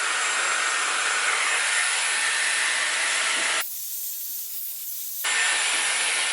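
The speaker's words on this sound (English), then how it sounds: "I'm just going to use it to kind of rough dry the roots in my hair" A Dyson Airwrap with its blow dryer attachment roars in a steady, close airy hiss while rough drying hair roots, cutting out briefly for about a second and a half before resuming just as loud.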